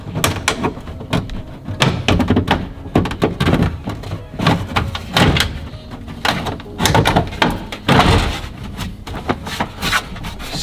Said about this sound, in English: Satisfying clunk as that goes in